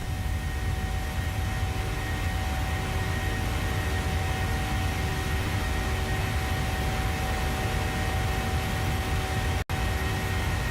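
Boeing 737-700 flight deck during climb in Microsoft Flight Simulator 2020: a steady, dense broadband engine and airflow roar with a faint constant tone, unbroken apart from a brief dropout near the end.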